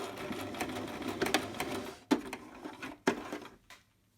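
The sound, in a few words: sewing machine stitching a backstitch on fabric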